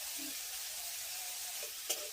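Prawns frying in a pan, a soft steady sizzle at low level with a brief faint clink near the end, no voices.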